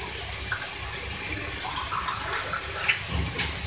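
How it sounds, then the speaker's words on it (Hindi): A small amount of water is poured into a pan of chicken macaroni stir fry with green onions, a continuous soft splashing and hissing close by. "इसको मैं कुक करने के लिए थोड़ा सा पानी का इस्तेमाल करेंगे।"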